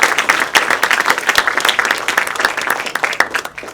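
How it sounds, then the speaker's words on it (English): Audience applause for a panel at a discussion event on the 1944 Marianas campaign, a dense burst of many hands clapping, loud and close, filling the whole stretch. "One more round of applause for our panel."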